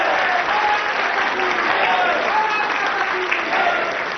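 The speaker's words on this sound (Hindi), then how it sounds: "आप लोग ताली बजाकर बताएं कि आपको भरोसा है योगी जी की बात" A seated crowd at a televised public court-style show claps together in a dense, steady roar of applause that holds evenly throughout, with faint voices mixed in.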